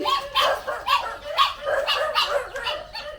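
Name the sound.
dogs barking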